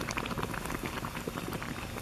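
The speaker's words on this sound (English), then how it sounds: "Immediately, lots of bubbling." Water reacts with cold pack chemicals in a vigorous, fizzing bubbling that gives off ammonia gas and splashes. The crackling pops are dense and continuous, heard close with no talking.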